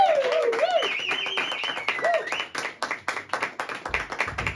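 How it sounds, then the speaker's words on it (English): Comedy club audience clapping and cheering as an act is welcomed to the stage, brisk close claps with whoops and voices over them, loosening into scattered claps near the end. "let's have the applause back up"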